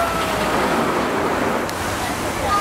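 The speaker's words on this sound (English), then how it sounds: "So here's our ride, Rumble Rapids." Rushing water on the Rumble Rapids ride at Thorpe Park during Fright Nights, a steady broad roar of churning water at a constant level, with no breaks.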